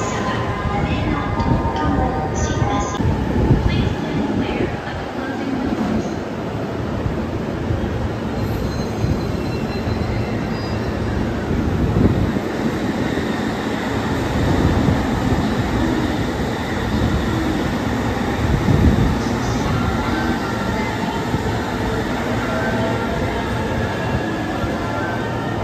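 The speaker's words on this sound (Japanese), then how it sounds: "ほぼ徐行運転だったので走行音はいまいちだったかもしれません。" Keisei line train creeping slowly into Nippori station, continuous rumble of wheels on rails with occasional wheel squeal and rattling carriages, fairly loud and close throughout.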